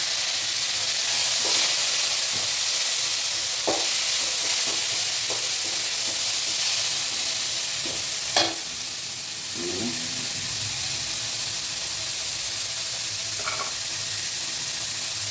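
Spices for vegetable pulao splutter and fry in hot oil, a steady loud hiss with scattered sharp pops and crackles throughout, close by and with no one speaking.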